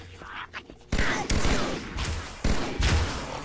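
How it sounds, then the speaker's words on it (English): Alien pistol fire in Halo Combat Evolved, a few sharp energy shots in quick succession, loud and close, with a short gap between bursts and a brief sound before the first shot. "The alien pistol can fire like normally"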